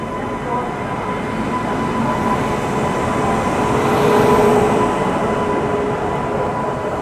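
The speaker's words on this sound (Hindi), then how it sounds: "हमारी बिलासपुर न्यू दिल्ली राजधानी एक्सप्रेस आ चुकी है झांसी जंक्शन के प्लेटफॉर्म नंबर 5 पे" Bilaspur–New Delhi Rajdhani Express pulling into platform 5 at Jhansi Junction, a steady, loud rolling rumble of wheels and carriages that swells slightly midway and carries on throughout.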